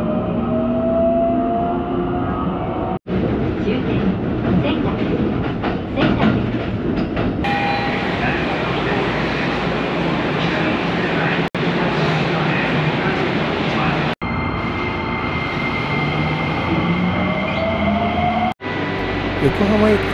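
A JR train runs on rails near Shinagawa station, a loud continuous rumble with clattering wheels and brief dropouts, heard from inside the car under spoken voices.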